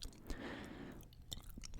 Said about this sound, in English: louder than the entire pretzel crunching on its own